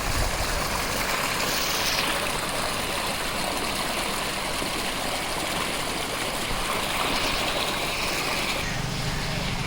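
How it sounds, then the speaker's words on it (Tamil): A 5 HP borewell motor pump runs beside a motor shed on farmland near the Palar River, giving a steady, loud, water-like rushing drone with a constant hum throughout and no pauses. "மோட்டார் ரன் ஆகிட்டு இருக்குது பாருங்கள்."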